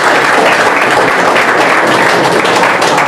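An audience claps loudly and steadily to welcome the director and teacher of Kiran Study Group, a dense, close burst of applause that fills the whole stretch without a break.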